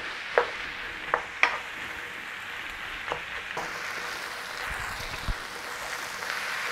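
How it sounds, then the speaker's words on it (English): Onions being worked down and caramelized in a pan for French onion soup, a low steady sizzle broken by sharp scrapes and knocks of a utensil against the pan, no voices. "Just keep working your onions down until we've caramelized them as best we can."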